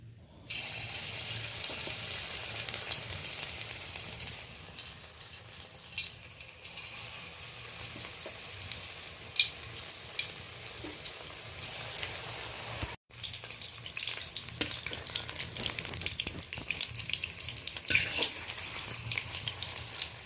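Gima greens pakoras fry in hot white cooking oil, giving a steady bubbling sizzle that runs throughout, with occasional small stirring clinks and one brief dip near the middle.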